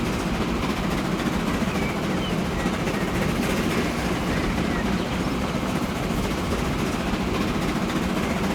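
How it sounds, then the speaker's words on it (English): Steady rolling rumble of a train ride in the Transport Fever video game, heard from the front of the locomotive on a US campaign map, continuous and fairly loud with no talk. "you can ride the front of the train, and you just see what's going on and get that front view"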